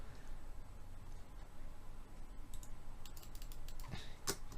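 Someone types on a computer keyboard while writing Java code, starting with faint scattered keystrokes and ending in a few sharper, louder clicks over a quiet, hissy room.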